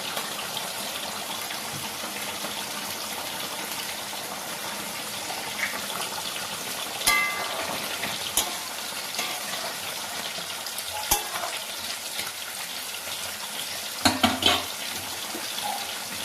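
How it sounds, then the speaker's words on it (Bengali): Pomfret fish frying in a pan, a steady broadband sizzle that holds at an even level throughout, broken by a few sharp clicks and utensil taps near the middle and toward the end. "মাছ ভাজা হয়ে গেছে"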